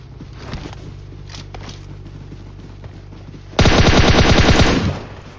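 Gunfire in PUBG Mobile: after quiet background, a loud close burst of rapid automatic fire rattles for about a second and a half, then cuts off.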